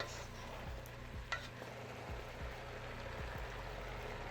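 Cauliflower and broccoli stir-fried for a shrimp chopsuey, a low, quiet sizzle under a steady hum, with occasional soft clicks of utensils mixing in the pan and no talk.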